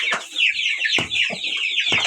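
A light Brahma hen sitting on eggs gives a few soft, close clucks spread across two seconds, with thin high bird chirping running steadily behind them.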